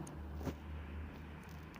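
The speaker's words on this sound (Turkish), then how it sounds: "Araba geçiyor." A car passes by outdoors, a steady low engine and tire rumble that stays audible through the short stretch with no talk over it.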